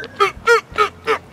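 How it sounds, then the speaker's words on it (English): Loud, close honking from a duck at a park, four evenly spaced nasal calls in a steady rhythm. "Jeffy, that's a duck."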